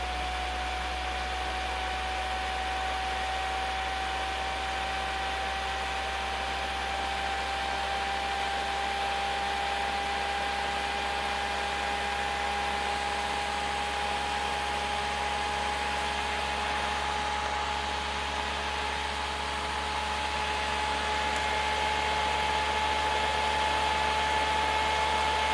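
A pulse energizer motor built for radiant energy spins up toward full RPM while being run to destruction, giving a steady, loud whine with a faintly rising pitch over a constant hiss, with no talking.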